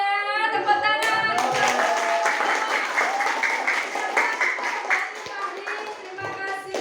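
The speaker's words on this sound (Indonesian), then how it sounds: "Tepuk tangan." A classroom of children breaks into applause, dense, lively clapping that carries on for several seconds, with young voices calling out through it.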